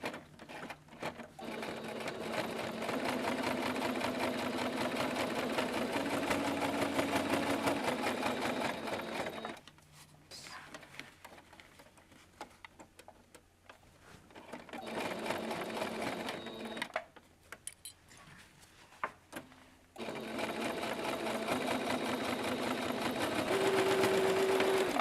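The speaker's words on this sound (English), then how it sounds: "So the machine goes over it like front and back a couple of times." Sewing machine running back and forth over a bag seam in double stitching, a close, steady mechanical whirr in long bursts separated by short pauses, with a quiet gap in the middle.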